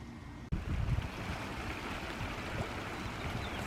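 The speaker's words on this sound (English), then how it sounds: "We have the irrigation water that runs through right here." Irrigation water flows through a small channel under a small bridge behind a house, a steady close rushing and gurgling with wind noise and a brief bump near the start.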